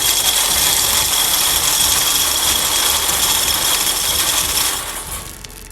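An automatic fish feeder's mechanism runs as it hoists and dispenses food, giving a loud, close, continuous mechanical whir and rattle that fades out near the end.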